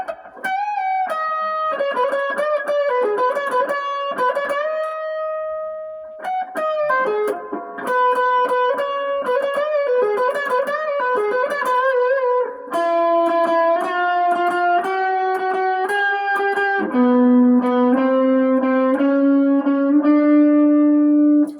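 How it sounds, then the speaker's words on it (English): A Laguna LE50 short-scale electric guitar run through an overdrive pedal, played continuously as a melodic run of sustained single notes and chords with reverb, loud and alone. "gives you an idea of how it sounds with a nice overdrive, which is like the mellower side of distortion"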